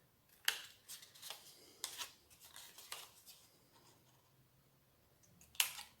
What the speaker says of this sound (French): je vais couper un petit bout mes ongles, comme ça